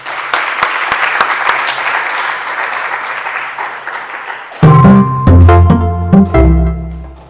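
Audience applause closes a talk on South Africa's democracy, a dense steady clapping that holds for several seconds before giving way abruptly to louder tonal music.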